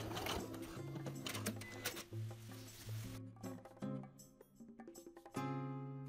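A sewing machine runs a tight, narrow zigzag stitch on jeans, a steady mechanical whirring hum with a brief pause partway through before it starts again, close and moderately loud.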